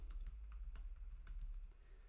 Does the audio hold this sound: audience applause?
no